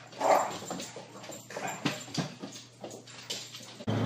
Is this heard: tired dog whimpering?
yes